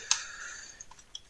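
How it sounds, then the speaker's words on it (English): Fast typing on a computer keyboard during data entry: a handful of sharp, close key clicks, one louder strike followed by lighter taps, with no talking. "there's a fair bit of typing and formatting sort of thing going on here"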